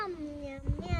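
A child imitates a cat's meow with a short, sliding, tonal vocal cry, close and clear, followed by a brief low rumble.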